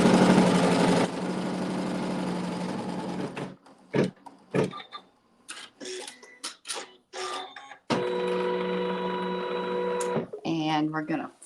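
A sewing machine runs a quilt seam in bursts of steady mechanical whirring, broken by clicks and short pauses.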